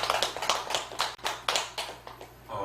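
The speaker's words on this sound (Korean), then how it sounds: "같이 서로 박수 한번 쳐줄까요?" Small group clapping in a Buddhist temple hall during a memorial rite, a few uneven, close hand-claps in a loose rhythm that fade out after a couple of seconds.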